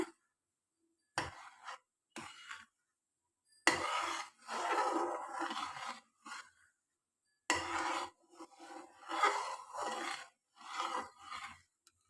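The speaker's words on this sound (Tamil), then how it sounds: "அல்வா வந்து கட்டியாக ஆரம்பிச்சுட்டு விடாமல் கிண்டி விட்டுக்கிட்டே இருங்க" A spoon stirs thickening beetroot halwa in a ghee-greased pan, making intermittent close scraping and rubbing bursts separated by short silences.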